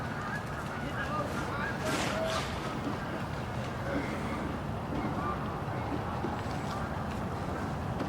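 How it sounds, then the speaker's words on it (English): Wild geese honk faintly in the distance, flying overhead in the morning, over a steady background hiss of wind or flowing water. "there are the wild geese that are flying around this morning. Hear them calling in the background."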